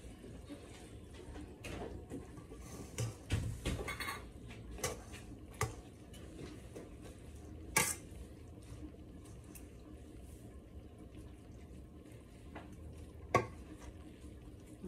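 Tuna macaroni salad with sweet relish being mixed in a bowl: quiet wet squelches and soft spoon knocks at an irregular pace, with a few sharper clinks, close by and without speech.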